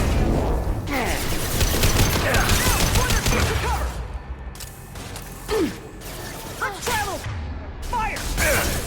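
Gunfire in a Mass Effect 2 firefight, clattering bursts of shots mixed with mechanical clicks and whirring weapon effects, with in-game voices shouting over the action.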